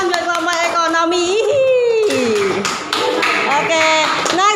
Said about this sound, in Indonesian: Tepuk tangan buat kelompok ekonomi.